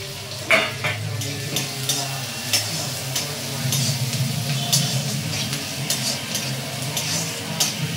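Chopped ginger, garlic and onion frying in a kadai for chilli paneer, a steady close sizzle with repeated stirring clinks and scrapes of the spatula against the metal pan.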